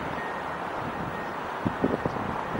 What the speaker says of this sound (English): The wind gust is so crazy today that it's even hard to like keep my hands steady during these updates.